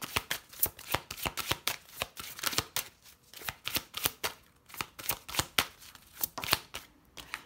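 Oracle cards being shuffled and drawn in a steady, rapid series of crisp riffling flicks, close and fairly quiet, with no talking.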